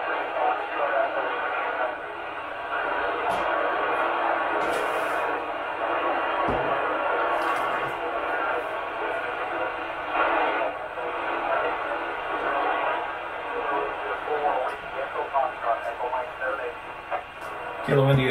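A ham radio receiver is tuned to the International Space Station. It gives a steady wash of static hiss, with brief clicks and faint, voice-like bursts breaking through near the end.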